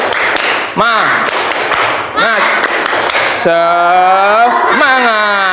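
A group of voices chants with a few sharp claps and thumps in a quick rhythm, a classroom spirit clap, the chanting loud and close and ending in a long sung note.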